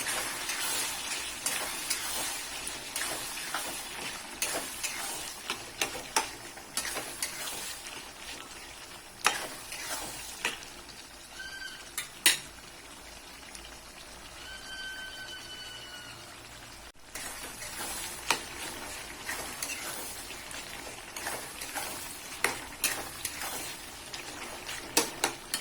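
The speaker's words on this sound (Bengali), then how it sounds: "হলুদ গুঁড়ো, লঙ্কার গুঁড়ো, দিয়ে ভালোভাবে কষিয়ে নেব।" Chicken liver stir-fried with turmeric and chili powder, a low steady sizzle broken by frequent spatula scrapes and clinks against the pan, with a quieter pause midway before the stirring resumes, no voices.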